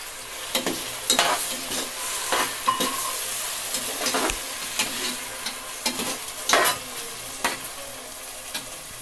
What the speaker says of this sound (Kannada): ಚೆನ್ನಾಗಿ ಫ್ರೈ ಆಗೋವರೆಗೂ ಟೊಮೊಟೊ ಬೇಯಿಸ್ಕೊಬೇಕು, ನೈಸ್ ಆಗಬೇಕು ಟೊಮೊಟೊ.